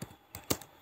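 A few quick computer keyboard keystrokes as a command is typed, three or four close, crisp clicks within under a second, with no talk.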